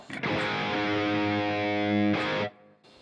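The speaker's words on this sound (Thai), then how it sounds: "ผมเปิดรีเวิร์บนิดหน่อย" An electric guitar played through a Boss ME-80 multi-effect with a little reverb sounds one sustained distorted chord. It rings loud and steady, then cuts off, leaving a short reverb tail.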